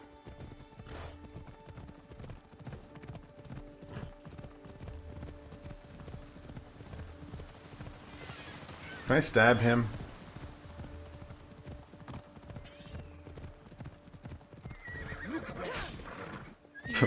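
Horse in the video game Assassin's Creed Odyssey, steady clip-clop hoofbeats running throughout with a loud, sharp whinny midway, while a player talks briefly over the game sounds.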